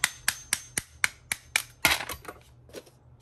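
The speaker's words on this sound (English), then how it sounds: "We're just gonna go ahead and hammer it out" Sharp, close metallic hammer blows knock a bearing out of a Traxxas X-Maxx 8S RC truck, about a dozen strikes in a quick, fairly even rhythm that loosens and fades into lighter taps at the end.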